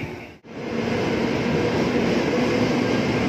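A commuter train heading toward Cikarang pulls away beside a station platform near Tanah Abang, a loud continuous rumble and rolling roar with faint steady tones after a brief dip.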